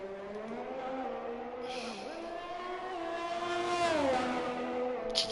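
An Alfa Romeo race car lapping the Baku street circuit in a racing video game. The engine drones steadily, dips in pitch twice at gear changes, then climbs louder as it accelerates.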